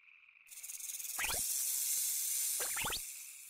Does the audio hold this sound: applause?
no